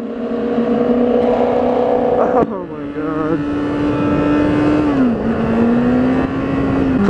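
A car with a loud aftermarket exhaust drones with a deep, sustained engine note, dipping sharply once then holding and shifting pitch as the revs change, close and loud, with a brief spoken exclamation.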